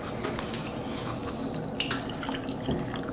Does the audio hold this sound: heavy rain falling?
no